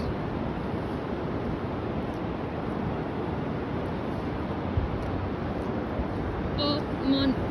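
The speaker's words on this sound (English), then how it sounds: "Check out the waves." Ocean surf at Nantasket Beach in Hull, Massachusetts, on a January day: a steady, broad wash of waves and wind noise fills the whole stretch, with a few faint voices surfacing near the end.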